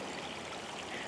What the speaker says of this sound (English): This is only a 3-season creek